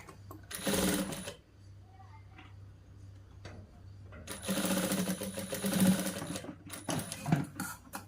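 Sewing machine stitching a boys' school uniform shirt, two long loud bursts of rapid whirring stitching separated by a quieter pause with a low steady hum.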